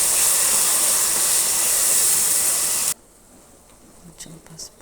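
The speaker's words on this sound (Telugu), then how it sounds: "ఆయిల్ హీట్ అయిన తర్వాత 1 స్పూన్ జీలకర్ర, అలాగే గ్రైండ్ చేసుకున్న మసాలా వేసేసి బాగా ఫ్రై చేసుకోవాలి." Cumin and ground masala fry in hot oil for a prawn curry, a loud, close, steady hiss that cuts off abruptly, leaving quiet scattered clinks and stirring.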